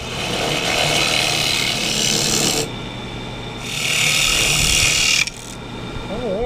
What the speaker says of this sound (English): take out the center here and then scrape out the inside